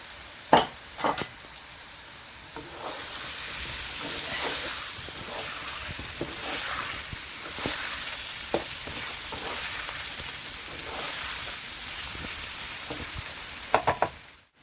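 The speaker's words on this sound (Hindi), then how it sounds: "अब इसमें सबसे पहले आलू डालेंगे ताकि आलू देर में गलते हैं।" Potatoes frying in a pan for mixed vegetable sabzi, a steady close sizzle running throughout, with a few sharp clanks of a spoon or utensil near the start and end, and no talking.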